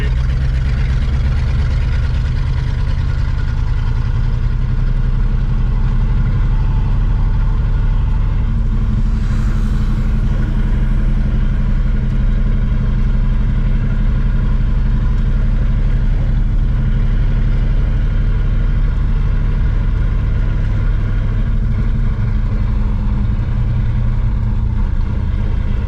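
A 1970 Grand Prix with a four-speed climbs a hill in first gear, its engine droning loud and close in a steady low rumble that holds throughout, with no talking.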